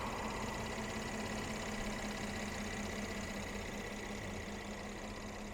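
The V6 engine of a 2015 Mercedes-Benz E350 4Matic Sport idles steadily with a low, even hum and faint rhythmic ticking, constant throughout and heard close up.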